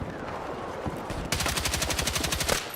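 Assault rifle fire in the video game Battlefield 6: quiet game ambience, then a sudden long rapid automatic burst of evenly spaced loud shots, close up, with no talk.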